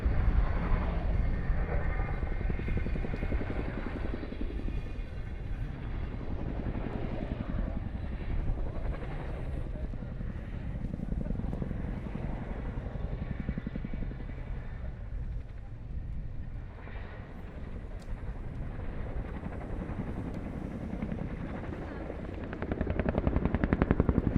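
A large twin-rotor RAF Chinook HC.5 helicopter roars continuously overhead during an air show display, its rotor thump layered with a high, straining transmission whine, loud and steady throughout.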